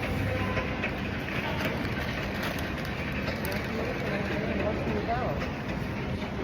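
A continuous loud rumble and rattle of a New York City subway train running through a Manhattan station, with steady rolling clatter and no gaps.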